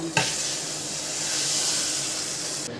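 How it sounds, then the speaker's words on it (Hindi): Hot ghee tempering with green chilli and Kashmiri red chilli poured onto dal makhani, bursting into a loud, steady sizzle that hisses on for a few seconds close up. "तड़का हम दाल पर डाल देंगे।"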